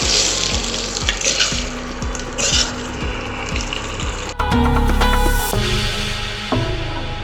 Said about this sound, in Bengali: সমস্ত সবজির সঙ্গে এবারে চাউটাকে আমরা ভেজে নেব